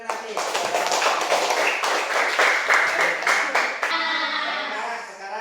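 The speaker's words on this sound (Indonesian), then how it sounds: "Kan tepuk tangan dari Nafis." Classroom applause for a student named Nafis, many hands clapping quickly and steadily at close range, loud and busy for several seconds before fading into voices and room noise.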